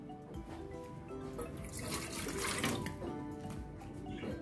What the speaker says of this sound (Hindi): पानी डालूं?